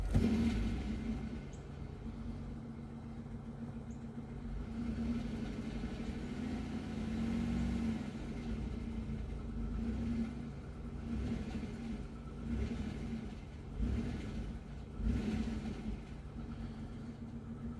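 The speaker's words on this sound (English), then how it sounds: "Now I'm going to snap the throttle." A Chevrolet Equinox with a misfire idles with a low, steady rumble, the engine swelling in a few short throttle snaps that rise and settle, heard from inside the car without talk.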